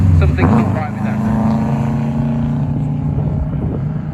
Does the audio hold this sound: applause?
no